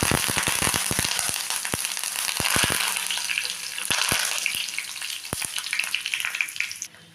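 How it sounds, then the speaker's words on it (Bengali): Curry leaves fry in hot oil with a steady sizzle punctuated by many sharp pops and crackles, thickest at the start and thinning out toward the end. "কারি পাতাটা ভেজে তুলে নিলাম।"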